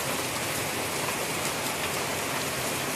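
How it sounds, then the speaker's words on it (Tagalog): Heavy rain from a typhoon in Camarines Sur pours steadily, a dense, even hiss of drops hitting surfaces with no pauses or voices. "Ayan, mula kagabi ang lakas ng ulan,"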